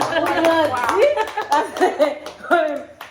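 Applause breaks out as a short burst of hand clapping mixed with chuckles and laughter, with people talking over it the whole time.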